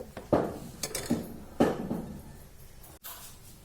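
Milk being stirred in a pan on the stove while it cooks down for basundi: a spoon scrapes and knocks against the metal in a few soft, uneven strokes, heard up close.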